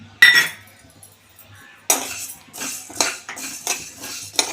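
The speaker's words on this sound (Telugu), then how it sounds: "ఇప్పుడు ధనియాలు వేసుకుంటున్నాను ధనియాలు వేపడానికి నూనె అయితే వేయట్లేదు నేను ఉట్టి వేపుతున్నాను" Coriander seeds and cumin are dry roasted without oil in a kadai, with sharp scraping and rattling strokes of a metal spatula against the pan that come in irregular bursts, close and fairly loud.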